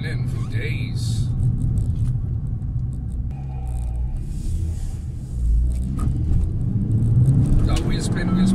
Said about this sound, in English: Oh, wheel spin, wheel spin, wheel spin.